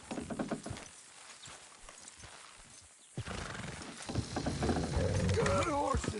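Horse hooves clip-clop steadily in Red Dead Redemption 2, with a horse whinnying near the end. The hoofbeats are soft at first, then louder, mixed with rolling wagon or outdoor noise and some speech.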